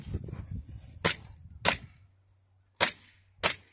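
Four sharp gunshots ring out at a shooting match stage, loud and close, two in quick succession then a pause before two more, each with a brief decay.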